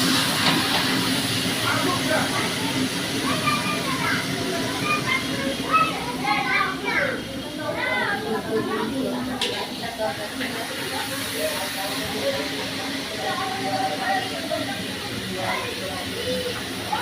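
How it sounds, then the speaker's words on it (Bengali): A steady hiss of pointed gourd frying in hot oil in a wok, with voices and background chatter going on throughout. "এবার দিয়ে দিলাম পটল পটলটাকেও ভেজে দিচ্ছি"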